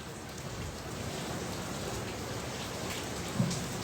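Steady rain pours outside during a Wednesday prayer gathering, an even, dense hiss of drops on surfaces that holds constant throughout with one brief thump near the end, no voices clear over it.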